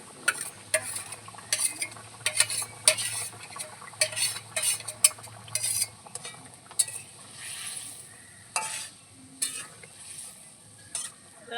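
A spoon stirs mustard paste into a boiling fish curry in a pot, with intermittent scraping and clinking against the pan over a soft bubbling simmer, close and fairly quiet.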